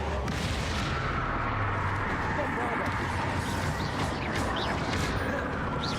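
A spell cast in the video game Hogwarts Legacy, rendered as a dense roaring magical burst over continuous loud combat noise with booming impacts throughout, and a voice speaking briefly.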